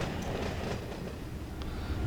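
A freight train rolls steadily into a rail yard near the Victorville control point, a continuous low rumble of wheels and cars without pause.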